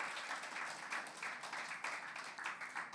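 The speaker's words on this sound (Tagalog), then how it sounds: "Can we give the Lord a clap offering of praise?" A church congregation claps together in a sustained burst of praise, dense and steady applause filling the room for the whole stretch, with no voices over it.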